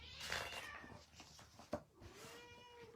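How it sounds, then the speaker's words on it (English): A cat gives a few faint meows, thin and high, heard quietly against a low background. "Here's my cat."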